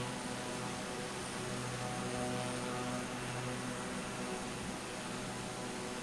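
A Cessna 408 cruises in Microsoft Flight Simulator 2024, its propeller engines producing a constant, even drone with a steady hum and no breaks.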